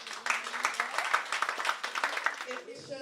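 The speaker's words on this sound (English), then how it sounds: "Give them a round of applause." Moderately quiet applause from an audience at a Launch & Lounge event. Scattered handclaps run under a nearby voice and taper off in the last half-second.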